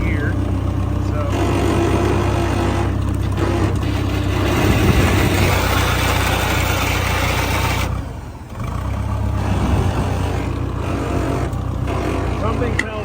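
A rare Massey Ferguson 180LP tractor, running again after 35 years with a suspect PTO clutch, is put in gear and driven. Its engine gives a steady, continuous drone close by, with a brief dip midway and faint talk underneath.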